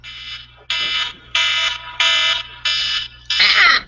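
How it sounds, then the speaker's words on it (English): A ship's alarm blares in five long, loud repeated tones with short gaps, over a steady low engine hum, with a voice briefly joining at the end. "Normally when an alarm like that goes off, the captain will get on the speakers and tell the crew what's going on"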